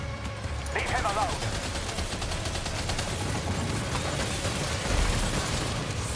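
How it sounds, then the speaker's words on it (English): Machine gun fire in the Death Stranding 2 video game, a dense rapid burst of shots that keeps going under game sounds, with a voice talking over it. "Oh, this machine gun is doing the work."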